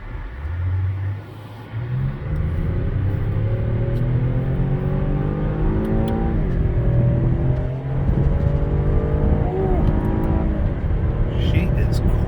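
A 2020 Chevy Impala LT V6 at 50% throttle, engine note rising through gears with clear upshifts, loud from inside the cabin, with someone talking over it.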